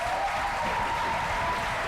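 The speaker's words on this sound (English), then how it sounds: "Just can we give him a clap first before we start?" Audience applause fills a room at a panel event, steady dense clapping held throughout at moderate volume, with a faint voice briefly audible above it.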